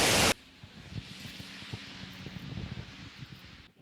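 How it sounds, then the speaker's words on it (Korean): Heavy rain falls outdoors, picked up through a FIFINE K6 dynamic microphone as a low, even hiss with soft scattered patter, faint and continuous after a brief loud burst at the start. "지금 여기 비 오고 있는 거 보이시죠? 저거 지금 비 맞으면서 폭우가 오는 극한의 상황 속에서"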